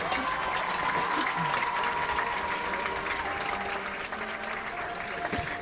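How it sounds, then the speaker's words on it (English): A crowd at a 2017 Valley Center vs Hays high school football game applauds homecoming candidates, with continuous clapping and cheering across the stands and faint mechanical clicks underneath. "Please give it a big round of applause to this year's"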